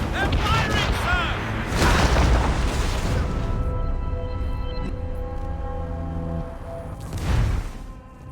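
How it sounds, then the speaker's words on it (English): Naval cannons fire in Assassin's Creed Rogue, with heavy booms at the start and a second burst near the end over a sustained low rumble, while voices shout across the deck. "They're firing, sir!"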